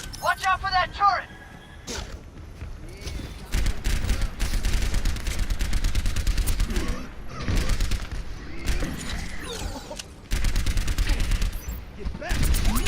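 A turret fires in the video game Overwatch, with rapid dense bursts of automatic gunfire and explosive impacts continuing almost without pause, mixed with game voice lines.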